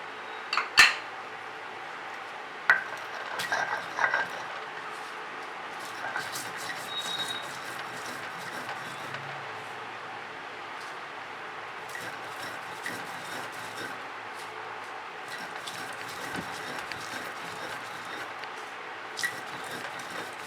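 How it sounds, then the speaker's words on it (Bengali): Fried red chillies and cumin are ground on a flat grinding stone with a stone roller, producing soft continuous rubbing and scraping with a few sharper knocks, fairly quiet and close. "এই যে লঙ্কা জিরেটা ভেজে রেখেছি, এইটা আমি এবার শিলনোড়ায় গুঁড়ো করে নেব।"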